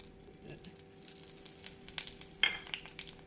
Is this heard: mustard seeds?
yes